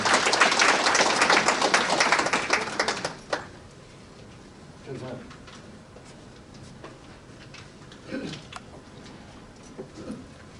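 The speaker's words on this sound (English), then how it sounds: "Everybody please clap for Dr. Tom Jean" An audience at a Wisconsin Lao Veterans of America memorial celebration claps for guest speaker Dr. Tom Jean, a dense burst of applause lasting about three seconds before it stops abruptly, followed by quiet room noise with faint murmurs.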